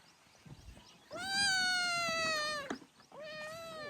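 Several drawn-out cat meows, loud and close, one long cry followed by a sharp break and a second meow, with faint background noise.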